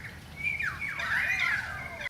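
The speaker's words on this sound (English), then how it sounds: "some bird song" Bird song rising and falling in a couple of bright, warbling whistled phrases, fairly close and clear over a quiet background.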